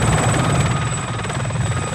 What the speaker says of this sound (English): So this is the surviving helicopter.